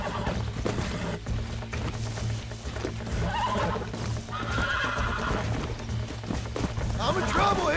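Horse neighing and whinnying with galloping hooves in the Red Dead Redemption video game, set in New Austin while wrangling wild horses, with game music and someone talking over the near, continuous sound.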